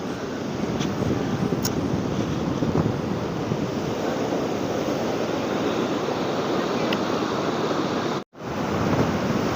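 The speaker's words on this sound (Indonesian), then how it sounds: "Ini ombaknya gede banget, gengs. Kedengeran sampai sini nih suaranya." Big ocean waves break at a beach in Serang, Blitar, a steady roar of heavy surf with wind buffeting the microphone, loud and continuous with one brief dropout near the end.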